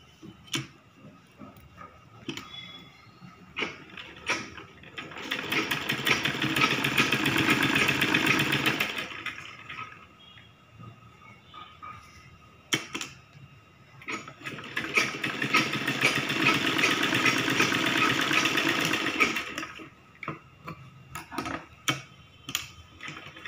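A sewing machine stitches fabric for a child's frock made from an old men's shirt, with piping along the shoulder seam. Two sustained runs of steady mechanical whirring are separated by quiet stretches with small handling clicks.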